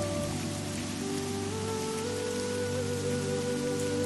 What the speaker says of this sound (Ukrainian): Якийсь час ви слухаєте, як краплі падають на суху землю, на зелене листя